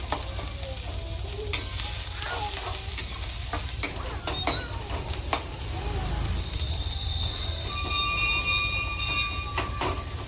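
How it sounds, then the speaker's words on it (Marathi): Vegetables sizzle steadily in a pan while a utensil scrapes and clinks against it in repeated stirring strokes, close and clear with no talk. "सगळं भाजून घेणार आहे"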